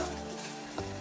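Butter melts in a hot pan with a steady, soft sizzle, close and fairly quiet, with a faint stir or clink near the end.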